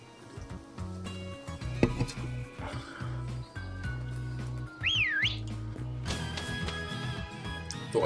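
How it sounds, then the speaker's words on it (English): Whistling in the video game Pokemon Shield, a bright rising and falling whistle tune rising above steady game music near the middle, with a few other game sounds around it. "Thought I'd whistle."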